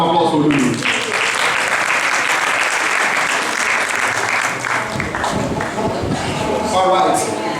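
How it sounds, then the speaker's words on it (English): Audience applause and cheering for a spoken word performer at the WORD UP poetry and soul music event, loud and continuous with crowd noise and voices mixed in. "Ladies and gentlemen, allow round of applause for Olulu."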